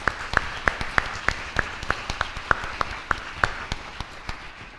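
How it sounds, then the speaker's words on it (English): An audience at a school board meeting claps faintly in a sparse, fairly even rhythm, each clap distinct and set back from the microphone. "Please give them a big round of applause."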